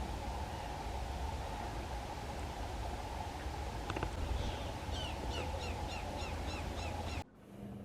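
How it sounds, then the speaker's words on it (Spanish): A female white-browed meadowlark perched on tall grass in the Pampas plain gives a series of short, repeated chirping trill notes, fairly faint against steady wind and background hiss, ending abruptly. "Sobre una hierba alta, una hembra de pecho colorado posaba solitaria, mientras que ocasionalmente trinaba."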